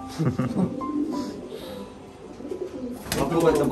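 Older pigeons coo in a loft of Giribaj tournament birds, a soft continuous murmur with a louder burst of calls near the end, heard beneath people talking.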